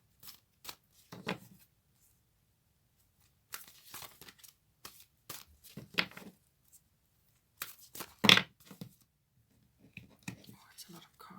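A large deck of cards is handled during a card reading: intermittent close riffles, flicks and papery rustles separated by quiet gaps, with soft whispered talk.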